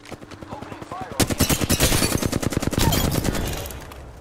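Sustained automatic gunfire in a video game firefight, a rapid loud burst of closely spaced shots lasting about three seconds before fading out.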